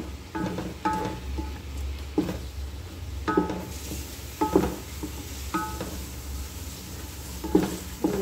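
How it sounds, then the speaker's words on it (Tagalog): Chili powder being stirred into biryani in a pan, with repeated scraping and clinking strokes of a spoon against metal every second or so over a low sizzle. "Chili powder. And then mix guys."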